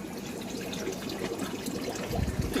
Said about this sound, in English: It's a bucket pouring water.